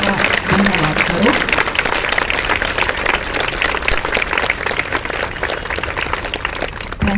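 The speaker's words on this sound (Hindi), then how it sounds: "तो एक बार जोरदार तालियों के साथ विकास का धन्यवाद करो।" A lecture hall audience at a Project Kartavya motivational talk gives enthusiastic applause to thank speaker Vikas, steady and loud throughout, with a voice heard briefly at the start.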